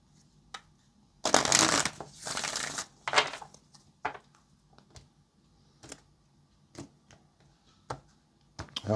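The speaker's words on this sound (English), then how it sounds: "Let's get one more good shuffle for Sagittarius." Tarot cards shuffled up close in a quiet room, a long dense riffle burst followed by scattered crisp taps and flicks as the deck is squared and handled.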